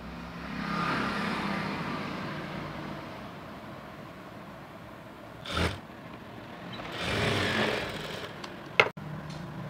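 A sewing machine stitches a fabric strip (patti) with a steady, close mechanical whirr that swells and eases in two longer runs, broken by a brief pause and a sharp click near the end.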